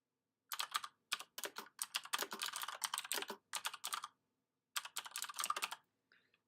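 Computer keyboard keys typed in quick bursts as an install command is entered, with crisp, close clicks and brief pauses between runs, and no talking.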